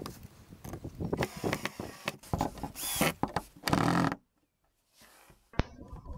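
A power drill bores into a thick hardwood plank, likely oak, for a long bench, in bursts of loud, gritty whirring broken by short pauses, then stopping, followed by a brief quiet and a sharp knock.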